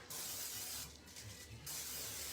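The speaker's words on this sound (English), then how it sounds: "I have a 9x13 pan right here, okay? So I'm going to spray it first." Two bursts of aerosol cooking spray hiss from close by into a 9x13 baking pan, the first lasting almost a second, a short pause, then a second long spray.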